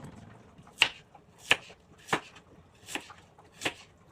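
Five sharp knife chops cut a vegetable into strips on a board, evenly spaced about two-thirds of a second apart, close and clear with no talk over them.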